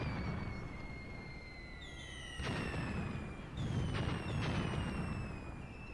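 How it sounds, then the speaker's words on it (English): Artillery bombardment in the war game Graviteam Tactics, with a few distant booming impacts landing one after another over a steady low background, accompanied by whistling tones that sweep downward, and no voices. "Bombarding these suspected Russian positions."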